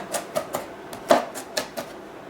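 A kitchen knife chops ingredients for spaghetti bolognese on a board: about eight crisp, close taps in a quick, slightly uneven rhythm.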